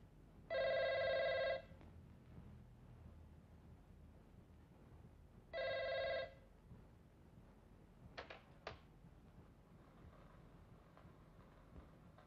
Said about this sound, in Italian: rispondi al telefono